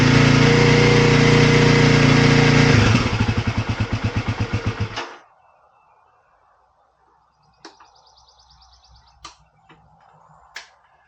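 A motorcycle engine with the choke on, running loud and steady near 3,500 RPM. It drops to a pulsing idle and then cuts out, leaving quiet with a few faint clicks and beeps.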